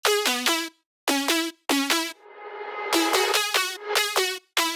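Bright synth plucks built from a saw wave, playing short repeated notes in quick rhythmic groups with brief gaps and a swelling tail between phrases, close and clear with no voices.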